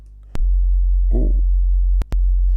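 Sine wave from a Berna 3 synthesizer module: a loud, steady, very low pure tone that cuts in abruptly, briefly drops out and restarts, with a short stretch of talk over it.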